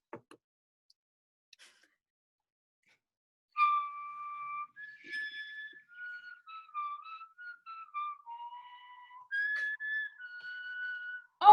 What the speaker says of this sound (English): Oh my God, do you hear that? What could that mean, Relly? It's the Sam whistle